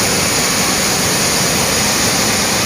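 Jog Falls in Karnataka roaring with heavy water flow, a dense, loud, unbroken rush of falling water filling the whole sound with no voices.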